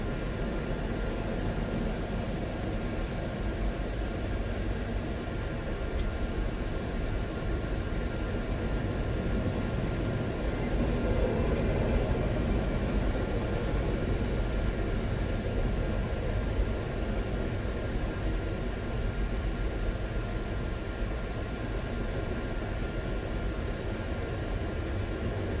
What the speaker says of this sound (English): Fairly long train.